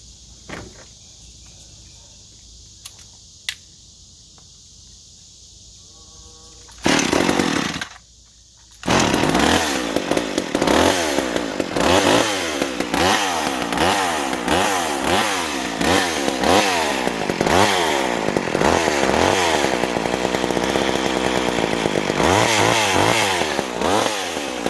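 A small gasoline chainsaw engine: a quiet outdoor stretch with insects chirping, then a loud burst, and from there the engine runs close and loud, revving up and down repeatedly.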